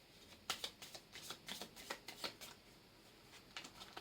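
Blue Médéor tarot or oracle cards are shuffled by hand close by, a soft, steady run of papery riffles and flicks with brief pauses, faint and unaccompanied by speech.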